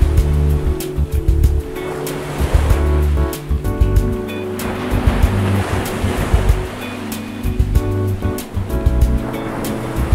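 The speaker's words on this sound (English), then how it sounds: "the soothing crash of waves and the salty breeze at sunrise" Ocean waves crash and wash steadily against the shore at Depoe Bay on the Oregon coast at sunrise, a loud continuous surf roar with some wind buffeting the microphone and no voices.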